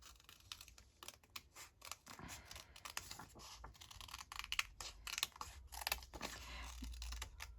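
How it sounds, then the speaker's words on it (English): Scissors snip through paper for a junk journal cover in quick irregular cuts, close and fairly quiet, with small rustles and scrapes between the snips. "I think I'll use these scissors."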